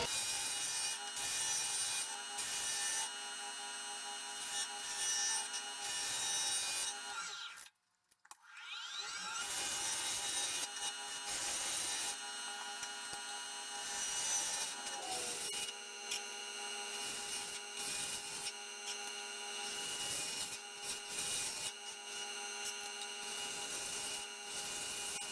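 A wood-turning lathe spins a small wooden pendant held on double-sided carpet tape while a tool takes light cuts, a steady close rubbing, scraping whir that breaks off briefly for a few seconds and then resumes.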